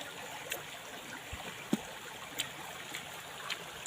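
River water flows in a steady, soft rush in the El Nido, Palawan area, with a few light splashes and clicks scattered over it and no talking.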